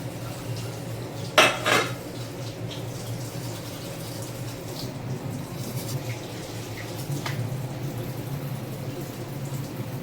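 A metal lid clanks down onto a pot of prawn pulao (kolambi pulav) in a home kitchen, two quick close clatters over a steady low hum, followed by faint cookware sounds.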